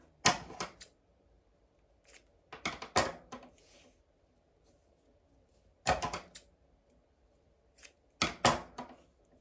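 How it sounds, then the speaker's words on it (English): Scissors snip pieces of yarn for crochet tassels in short bursts of two or three quick, crisp cuts, close up with quiet pauses between them. "You're just going to cut 3 pieces of yarn."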